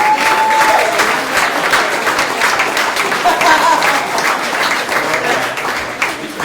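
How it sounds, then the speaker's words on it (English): A conference audience breaks into loud, sustained applause, dense overlapping claps filling the room and holding steady for several seconds before tapering slightly at the end. "can we give Corridor a huge applause?"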